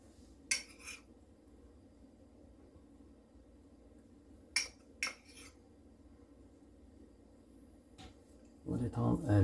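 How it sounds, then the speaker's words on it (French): A metal spoon clinks and scrapes a few times against a dish while dry marinade is spread over oven-grilled fish, with sparse short ticks separated by quiet pauses, closing with a louder handling clatter. "On va l'étendre avec la cuillère en faisant attention à la peau"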